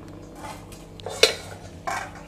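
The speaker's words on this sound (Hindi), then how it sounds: "कुकर में हम काटे हुए आम को डालेंगे और 1 ग्लास पानी डाल के ढक्कन को बंद करेंगे" A metal pressure cooker lid clanks shut with a sharp knock, followed by a second scraping clatter of metal against metal.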